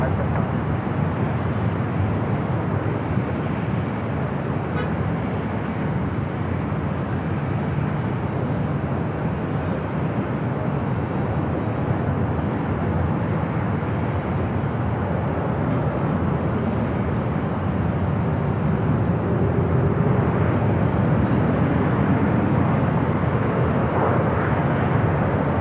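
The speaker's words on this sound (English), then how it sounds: "Avianca heading to San Salvador, flight 525. It's an A320." Avianca Airbus A320 airliner at LAX, a steady broadband engine roar that holds loud and continuous throughout, swelling slightly near the end, with no other sounds standing out.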